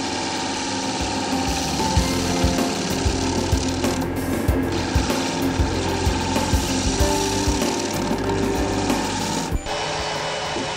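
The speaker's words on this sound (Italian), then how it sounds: "Ecco la scorbia a profilare da 8 mm in azione." Steady mechanical whirring of a spinning lathe with an 8 mm profiling gouge cutting segmented wood, rhythmic scraping pulses throughout, close and fairly loud, ending with a brief drop.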